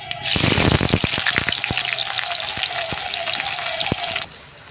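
Sliced onions dropped into hot oil in a kadai with whole garam masala of cinnamon, cloves and cardamom, a loud close sizzle that bursts up at once, crackles with a few sharp pops, holds steady, then cuts off abruptly.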